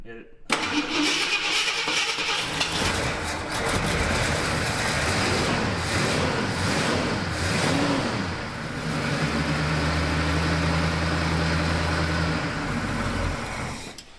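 An old Ford F100 truck engine, sitting unused for 20 years, idles steadily with a low rumble, starting rough and then settling into a steady hum, while people talk over it.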